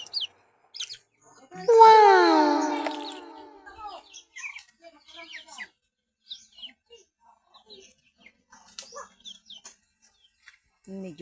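A loud, harsh duck call rings out once near the start, followed by scattered softer clucks and chirps against a quiet background.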